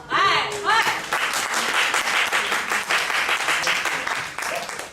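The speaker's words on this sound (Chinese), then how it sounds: "他需要拍拍手" A church congregation at a Saturday worship service claps in steady, loud applause for several seconds, with voices calling out over it.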